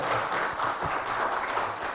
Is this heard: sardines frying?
no